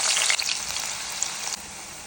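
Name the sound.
teasel gourd frying in hot coconut oil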